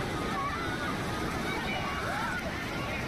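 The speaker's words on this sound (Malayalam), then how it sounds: "വെള്ളം ശക്തി കൂടിക്കൂടി വരുന്നുണ്ട്" Flash flood water surges through a river where a family is trapped, a continuous loud rushing and sloshing roar filling the whole clip, with someone talking over it.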